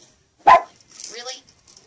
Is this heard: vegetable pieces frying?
no